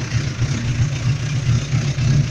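A Suzuki 750 high-performance motorcycle engine runs nearby with a steady, throbbing low idle rumble, loud and even, with no speech over it.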